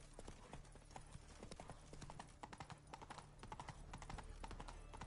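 Horse hooves clip-clop in a steady rhythm in the video game The Witcher 3, quiet and even throughout, sharp clicking strikes over a low background hum.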